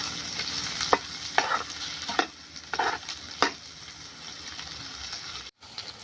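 Vegetables are stir-fried in a pan for leftover fried rice, a soft continuous sizzle broken by several sharp scraping stirs at irregular intervals, with a brief cut near the end.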